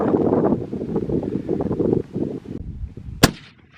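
A single sharp rifle shot rings out near the end of a red deer hunt, sudden and loud above steady, gusty wind noise buffeting the microphone.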